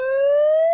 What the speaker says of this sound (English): then you hear the siren go off.